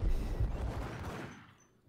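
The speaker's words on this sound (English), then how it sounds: "I don't need to keep shooting him, but I'm going to." Burst of gunfire in the video game Max Payne, a dense rapid volley that rings out loud and close at first, then tails off into a fading echo with no voices.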